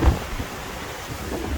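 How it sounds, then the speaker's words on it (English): Strong gusting wind from Hurricane Nicole buffets the microphone in a steady low roar, with heavier rumbling bursts at the start and near the end, and no voices. "Glad the wind's going that way."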